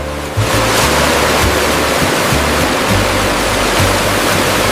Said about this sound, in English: Before processing, the tomatoes are thoroughly washed.